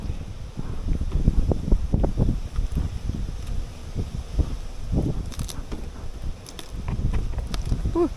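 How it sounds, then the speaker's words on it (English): A breeze blows outdoors beside beehives being restored after floods, giving a steady rushing, buffeting rumble against the microphone with faint rustling and occasional small knocks throughout. "Ooh, breeze. Ooh, breezy."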